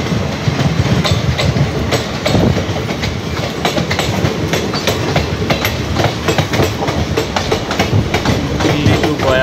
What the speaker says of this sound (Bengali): এটা কোনো একটা স্পেশাল ট্রেন।